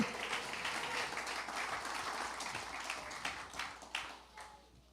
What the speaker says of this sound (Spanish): Dale un aplauso fuerte a Jesús.